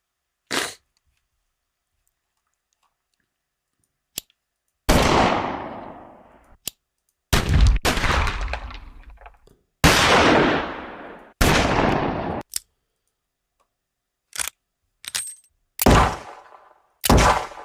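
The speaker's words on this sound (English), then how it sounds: "Let's just do a revolver." Designed revolver gunshot effects ring out one by one against silence: a dry-fire click and then sharp, punchy blasts with long decaying tails, loud and close, no voices.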